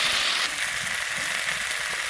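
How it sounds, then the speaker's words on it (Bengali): A ground paste of coriander, cumin, ginger and dried chili sizzles and fries in hot oil, a bright, steady crackling hiss close up with no voices. "মশলাটা ভালো মতো ভেজে নেব।"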